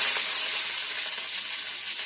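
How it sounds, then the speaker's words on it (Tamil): Chopped onions fry in hot oil for an egg gravy, giving a steady bright sizzle that stays even and close throughout with no speech. "ஆனியன் சேர்த்துட்டு கொஞ்சமாக அப்படியே அந்த எண்ணெயில் வதக்கி விட்டுடலாம்."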